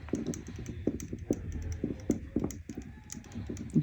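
A Kaweco Sketch Up fountain pen nib scratches across a textured table in quick, uneven strokes, close and fairly quiet, tapping and rasping without talk.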